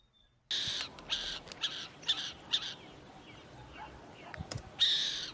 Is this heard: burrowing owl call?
yes